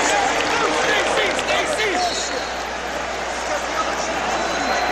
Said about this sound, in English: And here's the applause from the crowd.